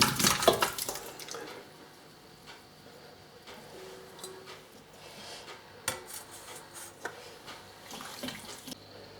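Plums tumble into a substantial thick-based jam pan, a burst of clattering at first followed by scattered knocks and soft thuds, close and moderately loud with no speech.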